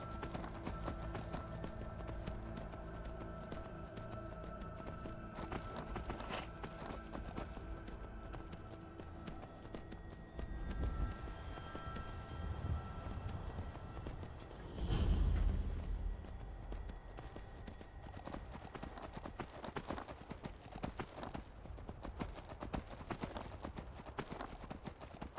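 Steady, rhythmic hoof clops of a horse walking continue throughout, faint and close, with a brief louder bump midway.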